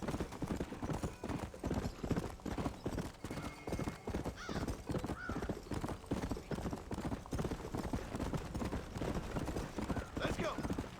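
A horse-drawn wagon rolls along in Red Dead Redemption, its hooves beating out a steady, close clip-clop rhythm for the whole stretch.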